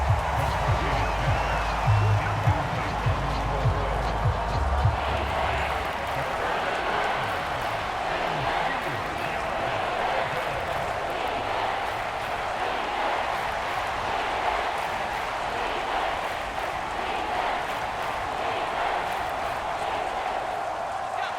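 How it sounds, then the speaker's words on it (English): A packed football stadium crowd at a 2024 NFL game between the Minnesota Vikings and Seattle Seahawks roars steadily, a dense, continuous wash of cheering that holds at one level throughout, with no clear breaks. "Well, this crowd into it now."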